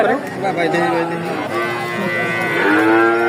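Loud cattle moos, including young heifers and a Holstein Friesian, long drawn-out lowing calls close by at a livestock market, overlapping one another with faint crowd chatter in the background.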